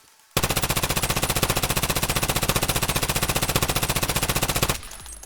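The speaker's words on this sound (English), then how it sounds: "So now let's try shooting while strafing." MCX rifle in Escape From Tarkov fired in one long fully automatic burst while strafing: rapid, evenly spaced loud shots for about four seconds, then an abrupt stop, no talk.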